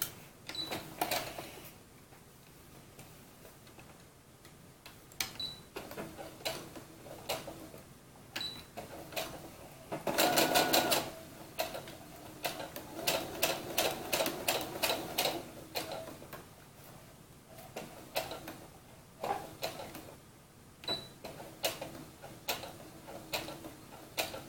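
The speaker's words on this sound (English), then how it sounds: "so now I'm going to sew from here down." A sewing machine stitches seams on a doll dress in repeated short mechanical runs, with rapid ticking needle bursts starting and stopping and a louder sustained run near the middle.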